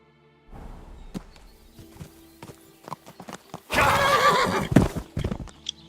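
Horse in the medieval game Kingdom Come Deliverance 2 gives a loud close neigh after scattered hoof clops and thuds, then more hoof sounds follow.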